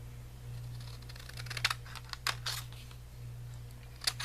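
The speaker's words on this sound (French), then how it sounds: "on va le couper" Scissors cutting paper scraps for handmade cards: a few sharp, brief snips spaced irregularly over a steady low hum, close and moderately quiet, with no voices.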